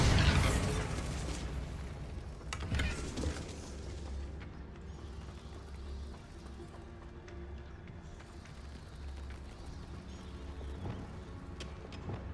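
In Hogwarts Legacy, a Bombarda blasting spell erupts in a heavy burst near the start and a second boom a few seconds later. Faint clattering and rumbling debris then fade out.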